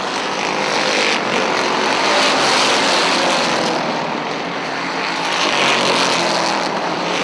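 Dirt modified race cars roar around the dirt oval at Airborne Speedway in Plattsburgh, New York, a steady loud engine drone with swelling passes, no voices.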